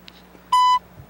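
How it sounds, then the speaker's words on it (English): A single voicemail beep, a clean steady electronic tone lasting about a quarter second, loud against a quiet phone line with no speech. "Leave a message after the beep."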